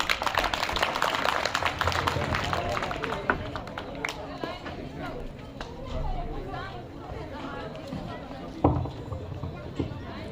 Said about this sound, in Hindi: तालियां जोरदार भाई